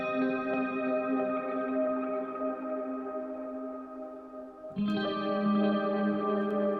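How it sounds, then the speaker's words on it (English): Crystal plucks preset from Fracture Sounds' Hemisphere guitar library: shimmering, echoing plucked guitar notes with heavy chorus and reverb ring on continuously, then shift to a higher pitch near the end, with no voice over them. "We've got these crystal plucks."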